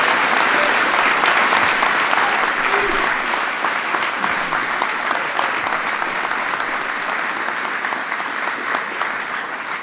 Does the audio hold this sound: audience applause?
yes